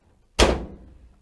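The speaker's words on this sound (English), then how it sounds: "if I open this door, I want to see if it shuts off the dryer." A clothes dryer door is pulled open with a single sharp thunk, a short close-up burst that quickly fades to quiet.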